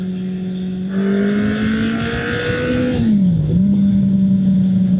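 A Kawasaki ZL900 motorcycle accelerates hard nearby, its loud engine note rising steadily through the gears and dipping at a shift before pulling again, with a wash of wind noise over the top.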